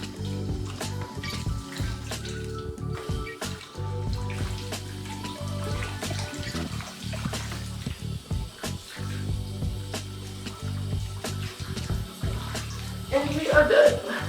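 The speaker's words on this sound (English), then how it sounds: "And then I rinse off his face." Water rinsing a small Yorkie dog during a bath: a steady running spray from a tap or sprayer continues throughout, with soft splashes and a louder burst of water near the end, while a person talks over it.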